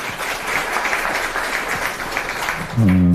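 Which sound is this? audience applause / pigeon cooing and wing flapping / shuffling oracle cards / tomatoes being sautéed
audience applause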